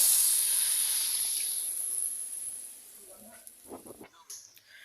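Water poured onto frying fish and vegetables bursts into a loud, close hiss of steam that fades steadily over a few seconds, followed by faint kitchen clatter and brief voice sounds.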